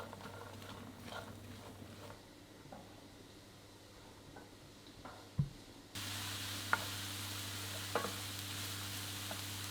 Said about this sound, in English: Fry that all together for about 5 minutes, stirring often until the onion starts to soften.